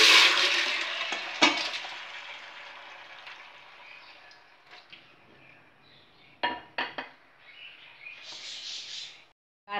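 Half-cooked mutton sizzles as it drops into hot gingelly oil, starting with a loud hiss that fades into a softer fry. Clinks of a pan and spoon are heard, and a few sharp knocks come from stirring.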